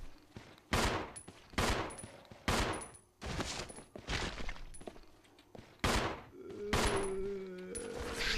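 Gunshots in the video game Resident Evil Zero: a string of loud, sharp blasts fired in separate bursts, with tonal game effects ringing between shots and no talk.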